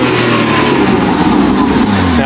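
A car's engine revs hard and close up on a dealer's forecourt, a steady loud roar whose pitch rises and falls across a couple of seconds with no talk over it.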